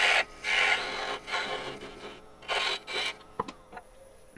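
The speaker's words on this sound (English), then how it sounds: "We could do that with a little pointy gouge." Small pointy gouge cutting into a tiny live-edge wooden succulent pot spinning on a lathe, quiet scraping bursts that come in short passes with pauses between, ending in a few light clicks.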